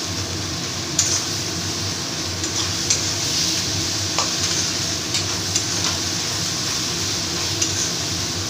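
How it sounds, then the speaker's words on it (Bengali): Ground spices such as cumin and red chilli powder sizzle steadily in hot oil for mutton kosha, with occasional scrapes and clinks of a spatula stirring the pan, close and continuous with no talk. "দিয়ে আমি এই মশলাটাকে আমি ভালো করে কষিয়ে নেব।"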